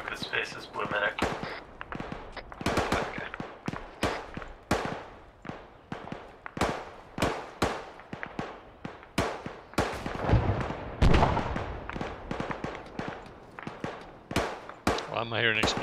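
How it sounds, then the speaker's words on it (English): Sharp gunshots and explosions in the military shooter ARMA 3 crack out in irregular bursts, some close and loud, others farther off, while voices talk throughout. "I'm hearing explosions."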